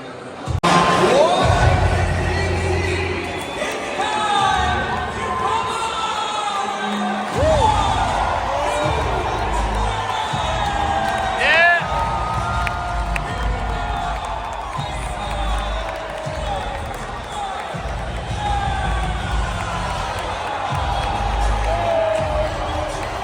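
An ice hockey crowd at a Washington Capitals round-two playoff game fills the arena with a steady loud roar, swelling cheers, whoops and sharp slams and bangs, under close talk.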